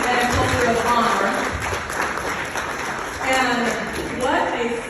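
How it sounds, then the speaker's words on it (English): An audience at a church retreat gathering claps in a steady round of applause, filling the room with continuous mid-level clapping while a voice carries on over it. "Let's give them another round of applause"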